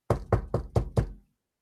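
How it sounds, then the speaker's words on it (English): Five firm, evenly spaced knocks on a door sound close and loud, followed by silence. "Imagine I go to visit Shabir Ali, I knock at the door."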